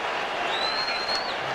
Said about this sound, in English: Up went the cheer from the crowd.